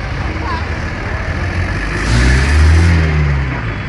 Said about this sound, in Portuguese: Momento em que o motorista da carreta deu a ré para poder tirar o carro do automóvel